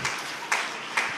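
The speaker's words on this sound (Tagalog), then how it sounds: "Palakpakan natin ng malakas na palakpak." A church congregation at a Friday service claps together, with three quick bursts of applause rising over a softer background patter.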